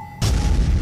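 Battleship shells fire in the ICBM strategy game with the Dawn at Midnight mod, one sudden heavy boom that cuts in abruptly and sustains as a dense rumbling roar.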